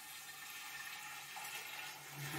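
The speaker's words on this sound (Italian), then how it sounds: "Quindi mettiamo il vino nella damigiana." Wine pours into a demijohn as a soft, steady liquid trickle and gurgle, faint and continuous, with no voices.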